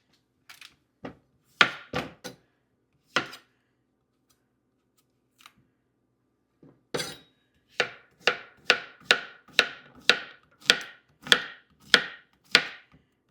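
A knife chopping food on a board during home cooking, with a few scattered cuts followed by a steady run of about a dozen crisp, evenly spaced chops, close and alone.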